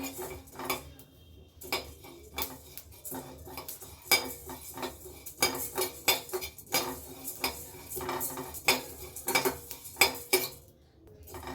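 Coriander seeds are stirred with a metal spoon while dry-roasting in a steel pan, giving repeated clattering scrapes and clinks in irregular bursts, close and fairly loud, with no talking.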